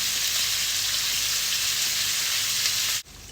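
Sliced onions hit hot oil for a Kerala-style fish biryani, producing a loud, continuous broadband sizzle that cuts off abruptly near the end.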